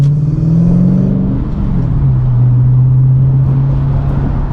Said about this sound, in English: Car's running great.